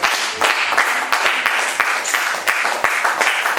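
A church congregation breaks into applause and acclamation for God, dense clapping with cheering voices sustained and fairly loud throughout, no single voice standing out.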